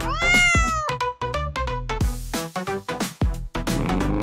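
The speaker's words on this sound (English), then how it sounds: "C is for cat." A cat meows several times in quick succession, loud, close and tonal, with drawn-out and shorter calls alone in a steady rhythm.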